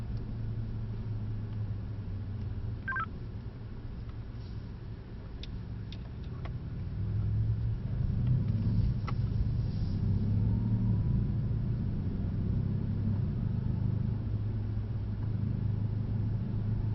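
Car accelerating on a racing track, heard from inside as a steady low engine rumble that swells and grows louder about halfway through, with a few faint ticks and no talking.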